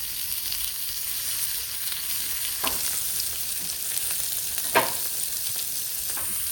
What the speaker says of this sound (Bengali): ফ্রাইফ্যানটা ভালো করে আগে হিট আপ করে নেবেন তারপর কুপ্তাগুলো দিচ্ছি